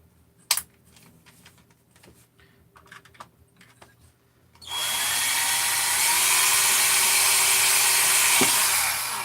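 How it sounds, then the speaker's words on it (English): Scattered clicks and taps, then a sudden loud, steady high-pitched drill whine that runs continuously for several seconds, close by, as a hole is drilled in a carburetor base. "So you got to drill a hole in your carb base."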